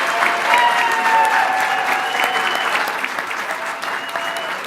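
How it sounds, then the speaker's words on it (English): A business challenge audience gives a round of applause for a participant, a loud, full wash of clapping that fills several seconds, with crowd voices and cheering mixed in beneath it. "Lynn Taylor, a round of applause"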